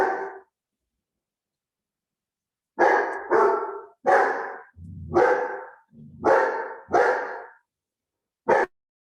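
A small female dog barks close by: a single bark, a pause, then a run of sharp repeated barks with a low growl mixed in, and a last short yip.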